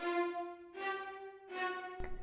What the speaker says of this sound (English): staccato is even shorter.